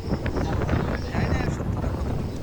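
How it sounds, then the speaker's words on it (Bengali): Strong sea wind buffets the microphone on an island beach, producing a loud, continuous rumbling roar with no clear speech. "এখানে এত বেশি বাতাস যে কানে বাতাস ঢুকে পুরো কানে ব্যথা শুরু হয়ে গেল।"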